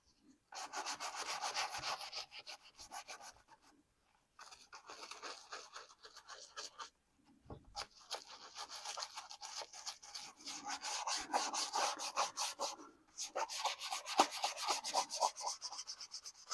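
An old leather knife sheath being rubbed and cleaned, a steady close scrubbing and scratching in bursts with short pauses, loud and alone with no talk.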